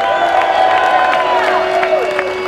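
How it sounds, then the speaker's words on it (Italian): A crowd at an Italian enduro event podium for the women's USA team cheers and applauds steadily, with whoops and shouts over the clapping and a loud, continuous roar that fills the whole moment. "Applauso per le ragazze!"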